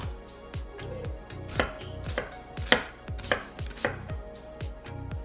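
A knife chops a red onion on a cutting board, about ten crisp, evenly spaced strikes close up, with no talking.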